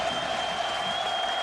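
A football stadium crowd at a 2008 Notre Dame vs Michigan State college game cheers in a loud, steady roar with a broad wash of noise, sustained throughout the short span.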